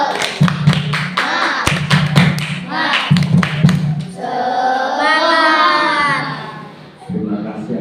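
A class of fifth-grade primary school children does a rhythmic spirited clap. Sharp, loud, group-synchronised claps come in quick bursts between short chanted phrases from the children, close and lively in a classroom.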